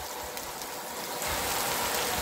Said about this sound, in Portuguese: Chuva no sertão da Bahia.